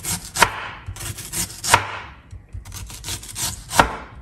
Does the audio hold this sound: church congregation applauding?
no